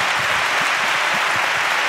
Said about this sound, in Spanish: Un aplauso, por favor, porque está muy guay.